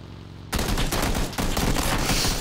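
Dense burst of automatic gunfire in the battle royale game PUBG, starting abruptly and rattling on loud and close with a brief gap midway, no talking.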